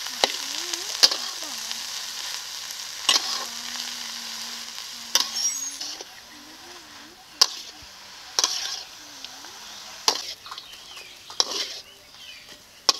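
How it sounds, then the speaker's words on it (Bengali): Red amaranth greens frying in a pan, a close, steady sizzle broken by repeated sharp clicks and scrapes of stirring, with a faint low hum running beneath. "লাল শাকটা ভাজা হয়ে গেছে"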